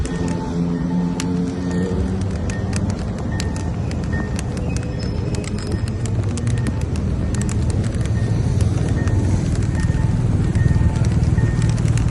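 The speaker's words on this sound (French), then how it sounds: "ce feu sonore-là, c'est vraiment très pratique pour les très grandes traversées comme ça" An accessible pedestrian crossing signal ticks rapidly and evenly, repeating throughout over a wash of street traffic noise.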